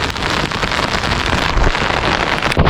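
Heavy rain pours steadily on a hilltop trail at Belumgala amid mist, a dense continuous hiss close by with no pauses and no voices.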